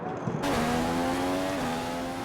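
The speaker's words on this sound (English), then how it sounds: "Car ready to leave." A race car in a Malaysia championship racing game pulls away from the garage, its engine rising into a steady, loud drone with a held whine after a short burst at the start.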